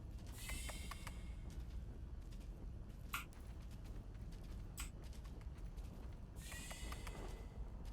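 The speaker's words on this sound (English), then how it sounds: "When the door opens, it weirdly sounds like kissy noises" A door opening in the survival video game Grounded, heard as a run of soft, wet squeaky creaks bursting out twice amid steady game ambience, with no talking.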